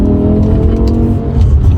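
A BMW M5 E60 with a Sprint Booster in race mode accelerates hard, its engine a loud, close, sustained roar with a rising tone that fills the whole moment.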